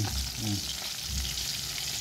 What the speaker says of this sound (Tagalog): Prito muna tayong galunggong.